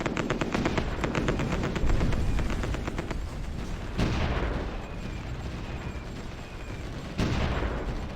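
Gunfire in the strategy war game Supreme Ruler Ultimate, a loud continuous rattle of rapid shots with heavier booming blasts at intervals, dense and unbroken throughout with no talk.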